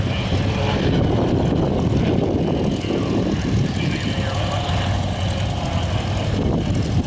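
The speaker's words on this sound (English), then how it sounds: "Wow, this guy's really good with this plane." A propeller plane performing aerobatics at the Omaka Classic Fighters Air Show in Blenheim, its engine droning loudly and continuously throughout, with some crowd murmur and talk mixed in.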